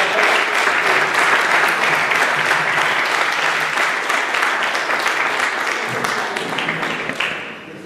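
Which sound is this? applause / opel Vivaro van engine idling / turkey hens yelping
applause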